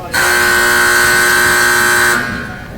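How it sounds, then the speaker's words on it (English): A loud, steady arena buzzer blares for about two seconds before the second period of a hockey game, a single sustained tone that cuts off abruptly, leaving faint room noise. "As the buzzer sounds, we'll get ready to start off this second period"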